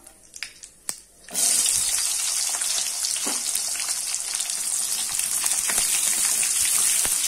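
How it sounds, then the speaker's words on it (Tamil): Shallots tip into hot oil with popping mustard seeds for a Tamil mixed-vegetable kulambu: a few sharp pops, then a loud, steady spluttering sizzle that fills the rest of the clip, close and without talk. "இப்போ கடுகு பொரிஞ்சிருச்சு, நம்ம இந்த வெங்காயத்தை போட்டுடலாம்."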